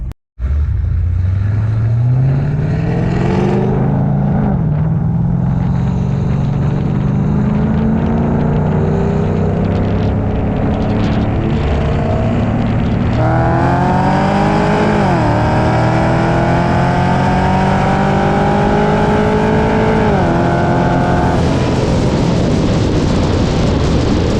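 A modified Cadillac CTS-V runs hard on a race track at dusk, its engine roaring loud and close throughout, with repeated rising revs through the gears and sharp dips at each shift.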